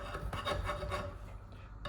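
A coarse hand file rasping across a workpiece in steady back-and-forth strokes, close and fairly loud, with no talk over it.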